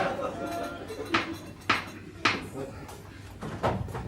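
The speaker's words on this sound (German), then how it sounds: "Die Tür." A door in a theatre stage comedy set near a canteen closes with several sharp wooden knocks and bumps, moderately loud and close, amid background room noise without clear talk.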